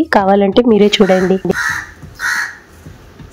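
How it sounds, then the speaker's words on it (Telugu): Loud, close crow caws in several harsh, rapid calls come first, then a person speaks briefly. "బట్ ఇంతలా అరుస్తున్న కాకి ఆ పర్సన్ ని చూడగానే కామ్ అయిపోతుంది."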